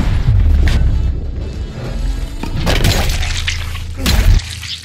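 Enemy's bomb blowing up in Dead Island 2, a loud close shattering blast with crashing debris and a few sharp follow-up bursts over a low rumble, no talk.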